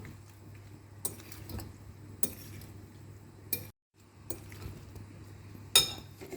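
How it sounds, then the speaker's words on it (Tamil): Mango salsa stirred with sugar, salt and vinegar in a bowl, a spoon scraping and clinking against the bowl in a few sharp taps between soft stirring, close, over a low hum with a brief dropout. "சீனி, உப்பு, வினிகர் எல்லாம் மிக்ஸ் ஆகணும்."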